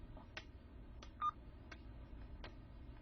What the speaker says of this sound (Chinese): 我邻居传呼我，能不能打个电话？